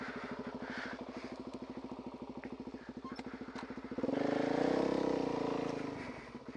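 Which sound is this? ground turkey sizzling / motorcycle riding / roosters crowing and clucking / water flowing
motorcycle riding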